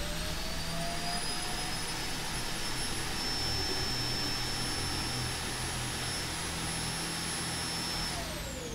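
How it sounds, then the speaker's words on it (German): In the Wasteland 3 video game, a device is emptied by suction with a steady, loud, jet-like roar louder than a vacuum cleaner, droning evenly for several seconds with high whining tones on top and no talk. "So laut ist der, wenn der leer gesaugt wird. Viel lauter als jeder Staubsauger."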